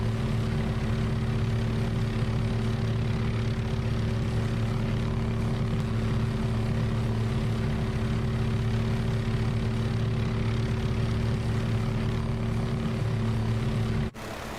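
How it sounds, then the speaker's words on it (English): Chinook helicopter rotors and engines in Microsoft Flight Simulator 2024, a steady, loud droning hum with low tonal throb that runs unbroken for the whole stretch before cutting off abruptly near the end. "Chinook's doing some air show over there."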